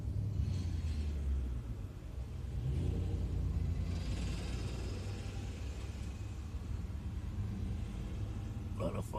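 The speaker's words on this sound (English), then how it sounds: "A lot of fucking traffic all of a sudden." Road traffic passing a parked car, a continuous low rumble of engines swelling and fading as vehicles go by, with a brief rattle near the end.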